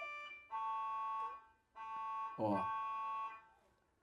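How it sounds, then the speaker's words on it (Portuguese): An ambulance siren passes outside a house, sounding as two long, steady wailing tones at moderate distance, with a voice briefly breaking in near the end. "explica que isso é uma ambulância que está passando"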